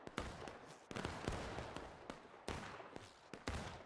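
Musket volleys in the War of Rights game: several sharp, rolling reports fired in uneven bursts, each followed by a short fading crackle, fairly distant and quiet, with no voices.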